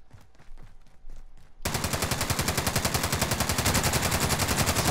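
Automatic gunfire in the video game Call of Duty Warzone, a few scattered shots at first, then a loud, sustained rapid burst of rhythmic fire for the rest of the span.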